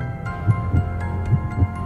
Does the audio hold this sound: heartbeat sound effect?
yes